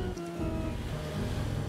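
Sea waves washing onto the shore near Taganrog, a steady rushing surf with wind noise, continuous and moderately loud, no voices.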